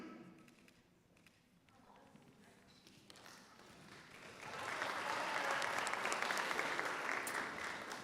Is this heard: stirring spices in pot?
no